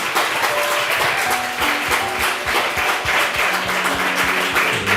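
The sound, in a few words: school audience clapping for a debater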